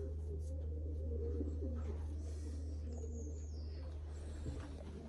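Young racing pigeons coo in a loft, several soft, low, rolling coos with a few faint chirps over a steady background hum.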